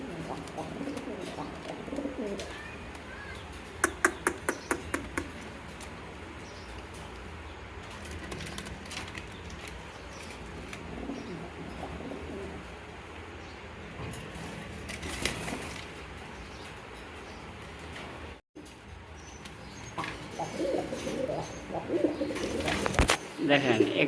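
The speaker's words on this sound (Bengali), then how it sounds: "দেখেন এখানে আরেক জোড়া কবুতর দেখতে পাচ্ছেন, এটা হলো বড় পায়রা কবুতর।" Large pigeons cooing on a farm, low repeated coos among general bird activity and occasional wing flaps, with a person talking intermittently over the steady outdoor background.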